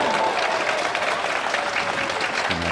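A knowledgeable crowd at the Hanoi Open pool match applauds steadily, a dense, continuous clatter of clapping that fills the whole moment, with a faint voice surfacing near the end.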